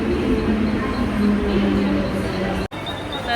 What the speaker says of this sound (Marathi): हो, ठाण्यात ट्रेन आली